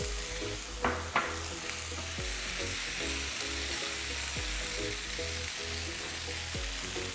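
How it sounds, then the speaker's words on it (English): Mushrooms and tomatoes fry in olive oil in a pan, a steady, fairly quiet sizzle with a couple of sharp spatters near the start and low rhythmic stirring scrapes throughout. "Mushrooms getting nice and tender, and I just have some tomatoes that I want to get in there."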